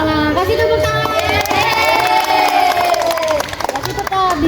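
Elementary school classroom children cheering and clapping together, a loud, lively burst of many young voices with scattered hand claps that carries on steadily throughout.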